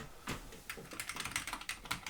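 Keys clatter on a Commodore Plus/4 home computer keyboard that only partly works, with a steady run of close, crisp keystrokes and short pauses between bursts.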